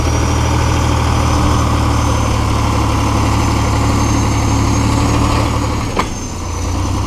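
A heavy T-150 crawler bulldozer engine idles steadily and loudly up close, a constant low diesel rumble with a faint click near the end.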